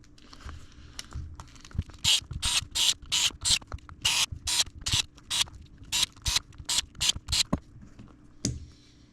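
Lug nuts on a Polaris Ascent's new wheel being tightened in a star pattern, a tool whirring in a dozen short close bursts with brief gaps, ending with a single click.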